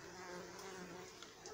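Bees droning steadily around three stacked honey supers on a hive, with an overturned basin nearby, a continuous close buzz with no talk.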